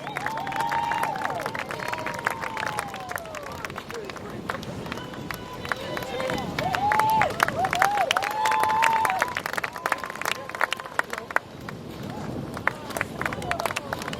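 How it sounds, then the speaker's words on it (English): Audience applause and cheering at a live show welcoming back figure skating finalists, steady crowd clapping throughout with scattered whistles and voices in the mix. "keep the applause going as we welcome back Dean and Maddie, our figure skating finalists"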